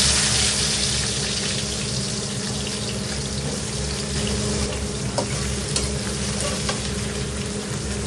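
Spices and chopped onion fry in hot oil for a fish curry, giving a loud, steady sizzle with crackling bursts that runs the whole time, close and without talk.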